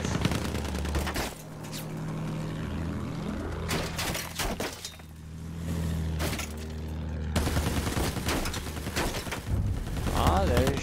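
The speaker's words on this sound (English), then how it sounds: "they're shooting back at me now" Battlefield 1 combat gunfire: dense bursts of rifle and machine-gun shots, near and loud, repeating through the scene with explosions and shattering debris, as voices speak at times.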